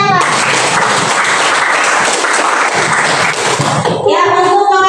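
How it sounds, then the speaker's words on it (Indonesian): Students in a classroom clap for a classmate, a busy patter of many hands that ends abruptly, followed by a voice speaking. "Oke, tepuk tangan untuk yang Mbak."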